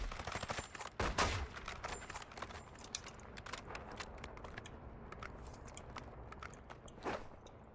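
Scattered shots from the Warzone video game, with a sharp burst near the start and another around seven seconds, separated by quieter crackling and distant impacts; no one speaks.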